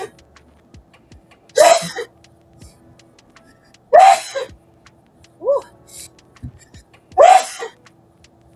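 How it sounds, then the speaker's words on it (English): Several loud sneezes in a row, spaced a couple of seconds apart, close up, with a brief exclaimed word among them. "Man, that was like 4 sneezes."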